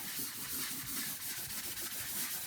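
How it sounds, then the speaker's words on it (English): Steady soft rubbing and swishing as a paper towel is wiped repeatedly across a patched drywall surface to remove sanding dust, close by with no voices. "I like to just get a paper towel and wipe some of that dust off"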